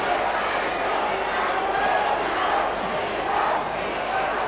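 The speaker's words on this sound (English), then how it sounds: "And the crowd is really getting pumped." A large football crowd roars at an NTFL grand final, a constant, swelling wash of cheering and shouting that fills the whole stretch with no break.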